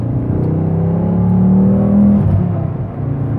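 A Volvo C30 R Design accelerates with a steady, throaty engine growl that rises slightly in pitch, close and loud, with no voices over it.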